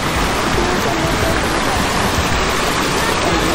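Water rushes steadily through a stream under a bridge near Someshwar, Almora, a dense, constant splashing flow heard close by without pause.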